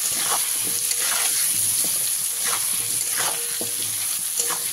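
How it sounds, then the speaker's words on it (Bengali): Potato pieces fry in a hot pan with salt and turmeric, giving a steady, close sizzle throughout, with repeated scrapes and stirring strokes at a regular pace. "এবারে আলুটাকে খুব ভালো করে লাল লাল করে ভেজে নেব"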